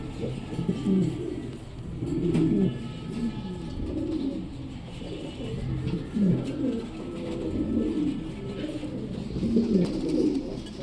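Mundiya pigeons coo steadily in low, throaty rolling phrases, several birds overlapping close by, with faint chirps and background hum and no talking.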